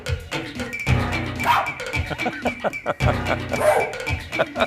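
Repeated dog bark samples played on a Simmons electronic drum kit in a steady rhythmic pattern, bright and close, looping over a beat.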